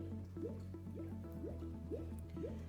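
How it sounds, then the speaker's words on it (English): Water rushes into the freezing cylinder of an Electro Freeze CS-700 soft-serve machine during flushing, with a steady, regular series of gurgling air bubbles escaping about every half second under a constant hum. "So the water's rushing in, air is escaping out."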